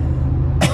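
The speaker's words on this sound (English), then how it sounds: "I got a little cough and something stuck in my throat" One short cough breaks in near the end over a low steady background hum, with a hint of throat clearing.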